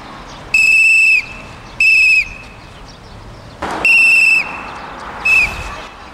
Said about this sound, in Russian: регулировщик подает протяженный сигнал свистком,